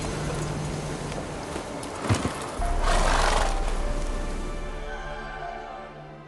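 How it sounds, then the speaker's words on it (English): A horse in The Witcher 3 video game gives a short whinny, followed by a stretch of steady, rumbling game ambience. No clear hoof clip-clop stands out. "Whoa there, Roach."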